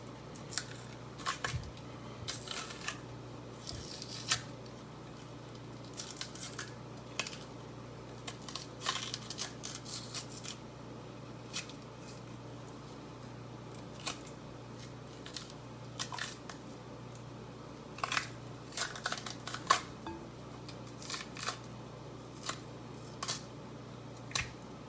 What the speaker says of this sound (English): all you have to do is just peel to the side and it'll just come right off